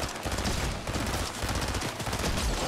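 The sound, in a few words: gold pump shotgun firing in the video game Fortnite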